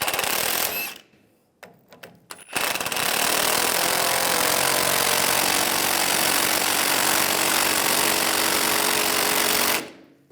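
Power tool running the front shock nut down on a 2007-2013 Chevy Silverado 1500, a few short bursts then a long loud steady whir of about seven seconds, heard alone.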